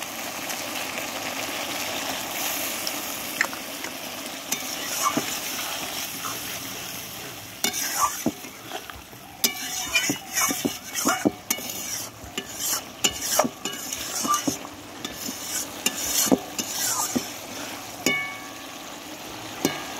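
Sizzling from a frying pan with continuous stirring and scraping; a splash of water sets off sharper crackles and hissing partway through, loud and close, with no talk.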